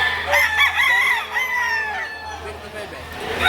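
Chickens and roosters at a market, eight-month-old birds for sale in the rainy season, give rising crows and clucks up close over a steady low hum, with some background talk.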